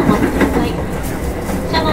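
Meitetsu 1000 series train, car Mo 1066 of set 1016F, running loudly from inside the carriage with a steady rumbling roar and faint wheel clatter.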